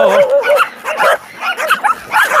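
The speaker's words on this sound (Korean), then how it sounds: "저기 또 강아지네, 강아지." Several dogs at a shelter for abandoned dogs in Haenam, yipping, barking and whimpering together in a busy overlapping chorus, close and loud, with high whines rising through the barks.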